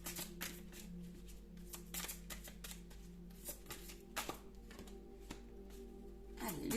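Oracle cards are shuffled by hand in brisk, repeated flicking riffles, close and quiet, followed by a short rustle as cards are drawn, with no talking.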